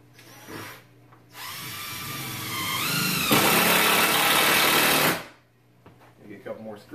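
Cordless power drill driving screws at an angle to toenail framing while converting a load-bearing wall: a short burst, then a long steady whir with rising pitch that ends abruptly, with brief talk near the start and the end.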